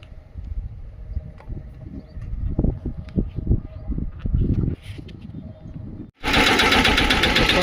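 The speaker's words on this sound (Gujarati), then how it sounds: "પહેલાં ટ્રેક્ટર ચાલુ કરી લઈએ." A three-wheel farm tractor's engine catches after some light mechanical clatter, then runs loud and steady at idle close by.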